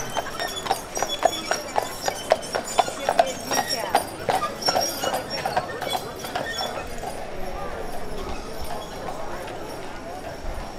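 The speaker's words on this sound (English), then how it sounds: "Everything is horse-drawn." Horse-drawn carriage on a car-free island town street, hooves clip-clopping in a steady rhythmic trot, fairly close and prominent at first then fading into background bustle, with a brief whinny and people talking nearby.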